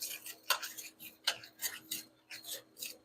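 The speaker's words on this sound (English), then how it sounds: "I'm chopping some of those little pieces of butter into smaller pieces." A knife chopping small pieces of butter on a board, a series of sharp, close clicks and taps in an uneven rhythm, about eight strikes with quiet gaps between them.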